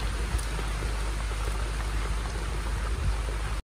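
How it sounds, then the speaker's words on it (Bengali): Steady, fairly heavy rain falls outside a village home, a dense even patter and hiss with no breaks. Nobody speaks. "তবুও বেশ ভালোই বৃষ্টি হচ্ছে"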